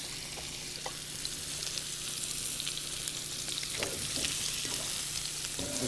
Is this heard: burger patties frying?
yes